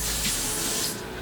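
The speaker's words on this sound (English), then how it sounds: "now I want to spray" One short, close hiss of a beauty product spray lasts about a second and then fades off.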